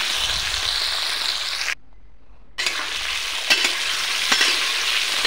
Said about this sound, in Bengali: খালি আলু ভাজি করার জন্য একটু হলদি দিয়ে দেবো।